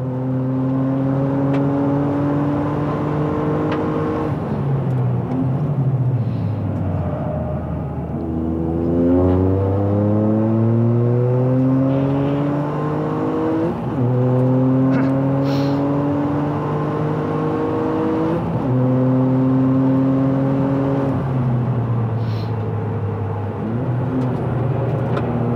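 A Toyota GR Yaris with a custom-made exhaust muffler drones and rises through repeated gear shifts on a race track, its raspy note climbing and dropping as it accelerates, loud and sustained.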